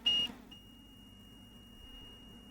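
Multimeter in continuity mode giving a short, sharp electronic beep at the start, then a faint steady tone persisting quietly in an otherwise still room.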